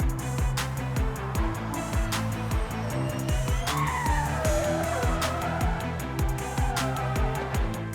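A Gen 3 Evo race car screams past with a loud engine and rapid gear shifts, and tires squeal and skid near the middle. No distinct impact is audible.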